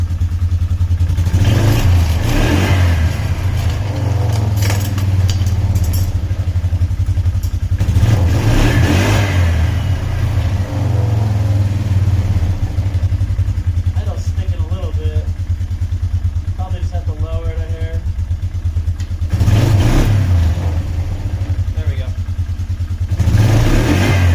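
A Polaris Trailblazer ATV engine revs up in several loud bursts over a steady idle, rising and falling close by, with brief talk in between.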